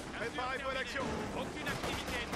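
A grenade blast and gunfire in the strategy game Company of Heroes 2 keep up a dense, continuous barrage of booms and rattling shots. Someone talks over the battle noise.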